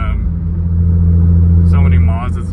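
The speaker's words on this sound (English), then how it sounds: "This car is quite rowdy." Catless 5th-generation Chevrolet Camaro running on E85 idles with a deep, steady rumble close by, while a voice talks over the engine in the later part.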